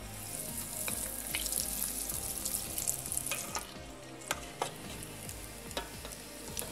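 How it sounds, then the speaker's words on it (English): Breaded scotch eggs fry in hot oil at 160 degrees Celsius, a dense bubbling sizzle with scattered sharp crackles and pops, close and fairly loud, with occasional knocks of a utensil. "Now gently add the egg into the oil and cook for about 2 minutes just to brown the breadcrumbs."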